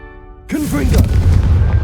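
A loud explosive boom from the Confringo fire spell in a Harry Potter video game, erupting suddenly after a shouted spell cast and trailing into a rumbling blast with crackling debris.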